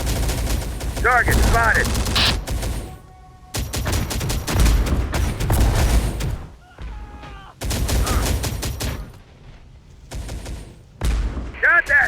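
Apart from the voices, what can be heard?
heavy gunfire in Operation Fallen Kingdom video game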